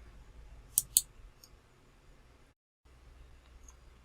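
Two sharp, close mouse clicks in quick succession, then a fainter third click, in FPGA programming software over a quiet room background.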